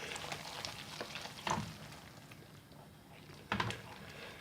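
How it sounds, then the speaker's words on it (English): Cream being stirred into a tikka masala sauce in a pan, with soft frying sizzle and scraping stir sounds, louder bursts of stirring near the start and end. "Let's mix all that in."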